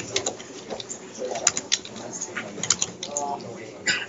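Quick, uneven clatter of keys on a computer keyboard while typing into a browser address bar, close and moderately loud, with a voice speaking over the tapping.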